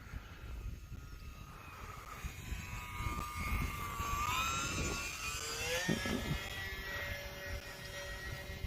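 An Eflite UMX Cessna 182 RC model plane flying outdoors, a thin faint electric whine that rises and dips in pitch as it passes overhead, steady under light background wind.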